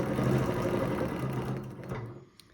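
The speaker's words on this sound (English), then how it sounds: "And I'm going to stitch straight up." A sewing machine stitches a straight vertical line with a fast, even whirring chatter that fades and stops near the end of the short burst.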